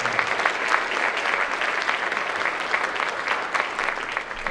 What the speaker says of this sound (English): Big round of applause for all our students.